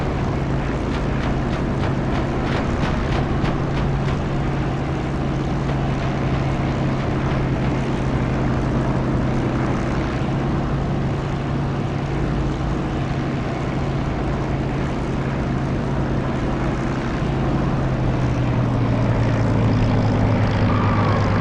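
Steady propeller aircraft engine drone from a DCS flight simulator game, heard close to the runway, with a continuous low hum that holds loud throughout and shifts pitch slightly near the end, no talking.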